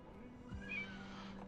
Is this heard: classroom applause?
no